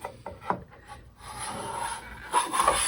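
A rabbet and chamfer hand plane pushed along a wooden board, giving close, rasping shaving strokes that start as short scrapes and stretch into a longer continuous pass, with no talking.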